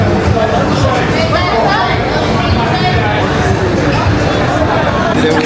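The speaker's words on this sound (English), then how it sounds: "Montego Bay Airport." Busy crowd chatter fills the terminal of Montego Bay Airport in Jamaica, a steady dense babble of many voices with scattered footsteps and bustle, loud and continuous throughout, with no single voice standing out.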